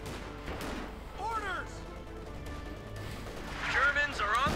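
Infantry gun shots and MG34 machine gun fire in Company of Heroes 2 battle, scattered reports and rattling bursts under a caster's continuous talk, growing louder toward the end.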